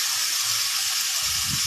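Marinated beef liver dropped into hot oil with onion, garlic paste, green chillies and bay leaf, giving a loud, dense, steady sizzling hiss close by, with a low thump of the pan near the end.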